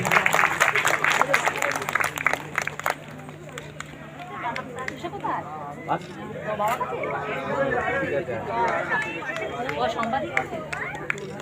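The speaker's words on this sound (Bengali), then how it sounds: "সবাই একটু জোরে হাততালি দেবেন।" Applause from the audience at the inauguration of a Panchanan Baba temple in Sonarpur, Noapara. Loud clapping opens, then fades into crowd chatter and murmuring with scattered claps over steady background hum.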